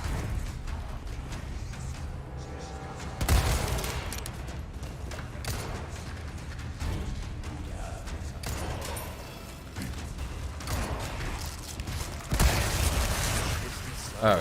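Video game gunfire during an online shooter match, with bursts of shots and booms recurring through the scene, with someone talking excitedly over it.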